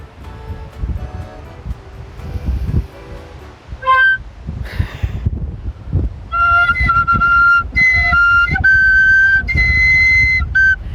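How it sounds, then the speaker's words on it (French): Gusty wind buffets the microphone in low rumbling bursts, with intermittent high whistling tones over it. "Avec le vent, c'est horrible."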